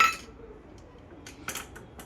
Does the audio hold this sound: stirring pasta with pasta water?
yes